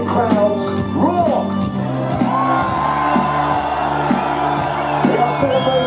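A live concert crowd at a show in Melkweg roars and whoops over loud music, with scattered shouts rising and falling throughout.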